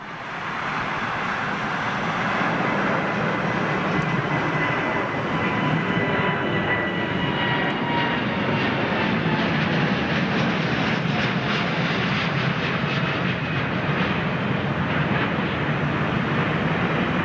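A large jet airliner climbing out after takeoff, a loud sustained engine roar that builds and holds steady over the whole stretch.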